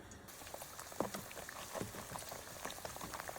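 Glutinous rice cups fry in a pot of hot oil with a steady, close bubbling sizzle and scattered crackling pops, with no voices.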